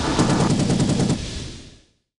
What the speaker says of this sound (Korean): 전투기의 기관포 소리야.